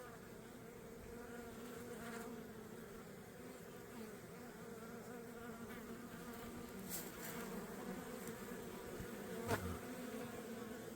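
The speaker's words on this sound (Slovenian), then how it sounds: "Pridne čebelce, super." Honeybees buzzing around the entrance of a hive in spring after overwintering, bringing in pollen; a steady, dense drone of many bees, close and continuous, with a few brief louder passes of single bees nearby.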